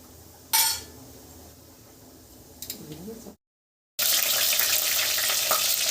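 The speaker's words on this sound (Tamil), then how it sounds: "பொரிஞ்சிட்டு இருக்குது." Spices, including fenugreek seeds, crackle and sizzle in hot oil as the base for a Sankara fish curry, with a faint hiss broken by a sharp clink, a short gap, then loud, dense frying.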